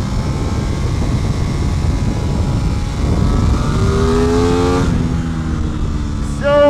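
Aprilia RS660 sport bike ridden hard on a race track in stock trim, engine note loud and continuous with rising revs and sweeping gear changes near the end, heavy wind rush throughout.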